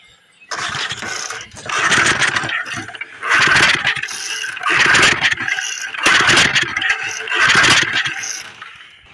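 An old Power Kraft rototiller engine with the choke set is pull-started repeatedly, giving four or five loud rising cranking bursts in a steady rhythm, each sputtering without catching, heard up close with no talking.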